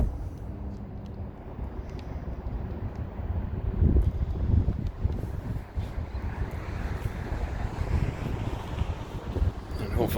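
Gusty wind blows outdoors beside an old prayer hall, buffeting the microphone with a low, continuous rumble that swells after the first few seconds and stays strong.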